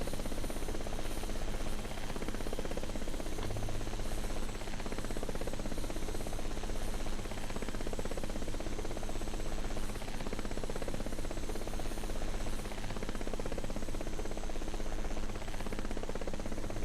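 A Bell 206B helicopter flies in a flight simulator game, its steady rotor and turbine drone filling the whole stretch as a continuous, fairly loud hum without talk.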